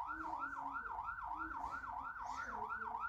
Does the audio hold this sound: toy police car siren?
yes